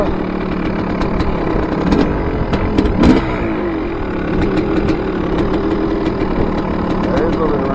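A 1986 KTM MX 500 two-stroke motorcycle engine idles steadily nearby, a loud buzzing putter with slight irregular pops, and voices talking faintly underneath.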